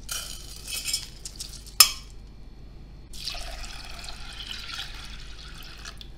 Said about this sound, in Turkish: Aynı bardak ölçüsüyle 6 bardak su ilave ettim.